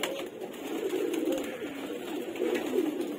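Giribaz pigeons, including young birds, coo on a sunny rooftop: low, throaty, rolling coos repeat close by with no talking.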